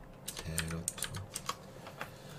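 Fingers tap on a computer keyboard in an irregular burst of quick clicks and a few sharper keystrokes, fairly close, with a low murmur of voices in the background.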